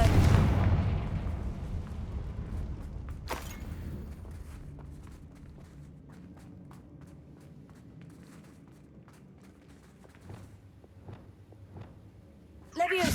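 Confringo fire spell blasts in the Hogwarts Legacy video game: a loud opening burst decaying into a rumbling tail, then scattered crackling impacts and a sharp blast near the end, with a voice briefly under the noise.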